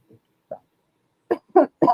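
A few short coughs from one person, first a couple of faint ones, then three louder, close bursts in a row near the end.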